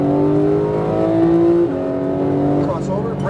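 Porsche GT3 engine pulling hard at full power on a racing circuit, a loud sustained high-pitched drone that holds steady, dips at a shift, then climbs again, with a voice talking over it.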